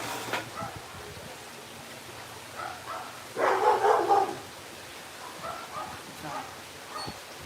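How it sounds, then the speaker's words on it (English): A dog barks in a short cluster of yips and barks mid-clip, fairly close, with quieter barks scattered around it and people talking in the background at a bingo game. "So he's just barking everywhere."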